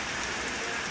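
Heavy rain pours down in a steady, dense hiss that fills the whole moment without a break, with no voices.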